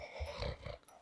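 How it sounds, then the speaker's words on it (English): A puppy growls faintly with low, rumbling bursts in a quiet indoor room during a yoga session, brief and soft with no voices. "Crazy puppy."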